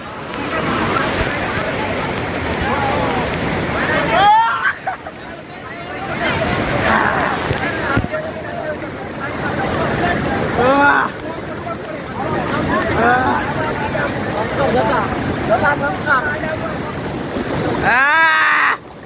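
Loud rushing, splashing water in heavy rain at Jatashankar Mahadev temple, Junagadh, with wind buffeting the microphone, broken by brief quieter pauses, and voices heard over it.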